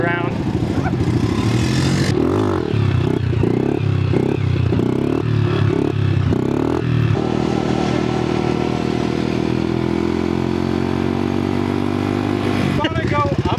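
Small mini bikes ridden around on the Bonneville Salt Flats, a loud steady engine drone with revving and shifting pitch close by, clattering at the start and people talking over it.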